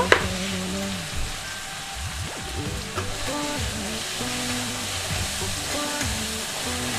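Broiler chicken masala frying with turmeric in a pan, a soft continuous sizzle with occasional light clinks and stirring scrapes, no voices.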